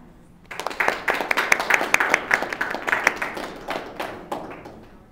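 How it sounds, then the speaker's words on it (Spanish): Applause welcomes a professor to the lectern at a talk on violence against Dominican women. Brisk clapping from a modest audience starts after a half-second of quiet, swells, then thins out and fades near the end. "ayúdenme en darle un aplauso de bienvenida a la profesora González"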